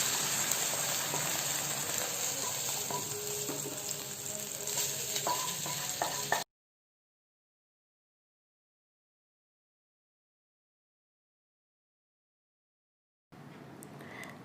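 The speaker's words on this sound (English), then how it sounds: "Just add this tadka to the pongal." A tadka of ginger and coriander leaves sizzles steadily at close range as it is added to ven pongal, then drops to silence midway and returns faintly near the end, with no talking.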